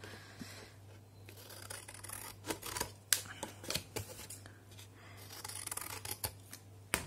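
Scissors snip through paper for a Stamperia Forest mini album, a series of close, quiet crisp cuts and rustles, irregular and bunched, with soft handling noises between them and a faint background hum.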